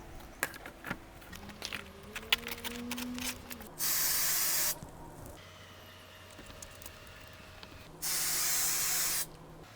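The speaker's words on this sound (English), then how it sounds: "make sure to spray my spray adhesive upside down to clear the nozzle out so it doesn't clog" Two short bursts of loud spray adhesive hiss from a can held upside down to clear the nozzle, each about a second long, separated by a quieter stretch of background rattling and faint tones.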